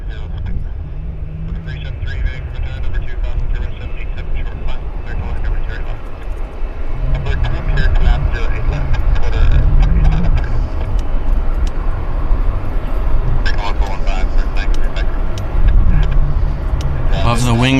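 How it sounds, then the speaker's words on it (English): An Air Canada Boeing 787 Dreamliner inbound from Dublin rumbles on approach to Vancouver Airport, a broad steady jet roar that swells mid-clip, with someone talking over it throughout. "this is Air Canada Dreamliner inbound from Dublin"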